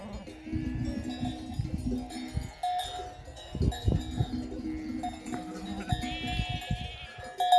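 Sheep bleat repeatedly nearby amid clinking bells and soft splashing and lapping sounds, as lambs drink highland water; no talking.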